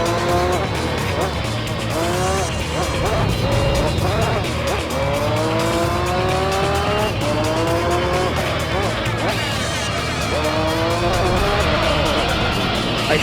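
Race car spinning out in Gran Turismo 3, with loud, repeated tire squeals sweeping up and down over a steady engine drone, under a voice talking.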